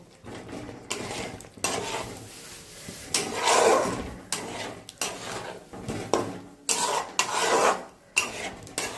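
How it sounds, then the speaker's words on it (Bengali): Small potatoes being stir-fried in a spice masala in a pan, with repeated scraping and rubbing strokes of a spatula against the pan in irregular bursts, close and fairly loud with no talk. "মশলাটা কষানো হয়ে গেছে এবার এতে আমি আলুটা অ্যাড করে আবার খানিকক্ষণ"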